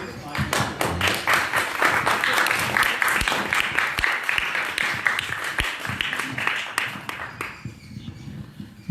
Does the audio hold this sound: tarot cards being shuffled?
no